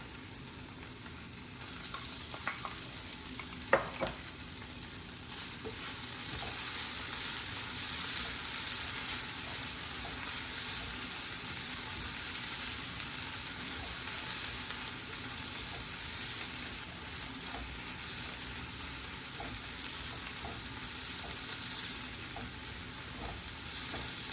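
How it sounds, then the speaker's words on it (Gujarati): Paneer matar kadhi simmering in a pan as paneer goes in, a steady broad sizzle and bubble that carries on evenly for a long stretch, with one brief clatter near the start and no talking. "હવે આપણે આપણું પનીર પણ એડ કરી દઈશું એમાં"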